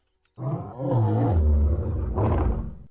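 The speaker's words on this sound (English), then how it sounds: "This is his growl." A dinosaur in the Roblox Dinosaur Simulator video game lets out one loud, deep, drawn-out growl that swells near the end and lasts about two and a half seconds after a short silence.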